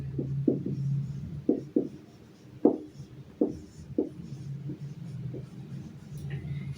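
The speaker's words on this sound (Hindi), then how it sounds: "मैं एक बार लिख दे रहा हूं" Chalk or marker strokes on a classroom board during a Class 8 maths lesson on rational numbers, a series of short taps and scrapes in an irregular rhythm over a low steady hum, close and moderately loud.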